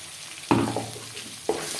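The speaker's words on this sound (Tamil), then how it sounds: "சேர்த்துட்டு நல்லா கொஞ்சம் வதக்கி விடலாம்" Ground masala paste hits a pan of chicken gravy and starts sautéing, with two sharp sizzling bursts about a second apart over a steady frying hiss, close and alone.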